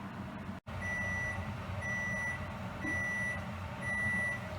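A kitchen timer beeps in regular pulses, four evenly spaced tones over a low background hum, with one sharp click near the start.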